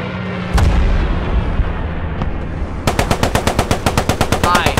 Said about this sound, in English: Oh no, it's an MG.